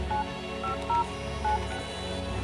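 Phone keypad tones are heard during a DUI arrest stop: a few short dialing beeps at moderate level over a steady background hum, with no talk.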